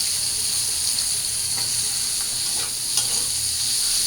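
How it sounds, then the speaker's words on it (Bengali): Dried fish, garlic paste and onion fry in a hot pan with a steady, close sizzle and hiss, broken by a few soft stirring scrapes. "তো পেঁয়াজটা শুটকিটা একটু ভাইজা নিই"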